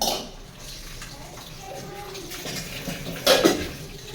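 Dishes clatter and water splashes while pots are being washed, with a sharper clank of crockery near the end.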